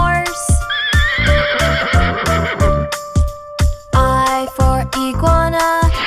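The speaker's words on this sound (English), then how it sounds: "H is for horse." A horse gives a loud, close whinny that rises and wavers, set over a bouncy rhythmic backing with pulsing beats and tonal notes.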